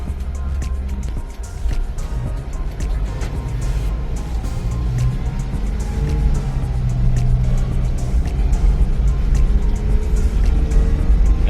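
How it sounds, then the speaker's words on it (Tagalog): Road noise from inside a Suzuki DA64W Every 4x2 on a road test, with a motorized tricycle passing nearby; a steady low engine drone grows slightly louder over the stretch, with no talk. "May tricycle."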